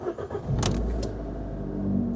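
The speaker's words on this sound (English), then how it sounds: "let me start the engine and I'll show you what the issue is" An Abarth 595 engine cranks briefly and catches, then settles into a steady low idle, recorded close by with no talking.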